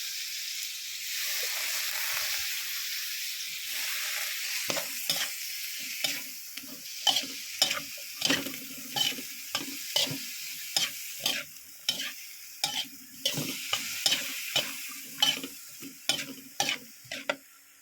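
Offal stir-fried in a wok with holy basil, mushrooms and long beans: a steady loud sizzle and hiss with a long run of rhythmic scraping strokes from the spatula, close up and without speech.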